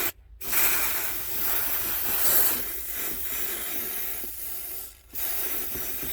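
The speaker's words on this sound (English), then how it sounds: "I've just been cutting squares out and using some spray adhesive." Spray adhesive hisses from an aerosol can onto squares of foam in a few sustained bursts, broken by short pauses, close and fairly soft.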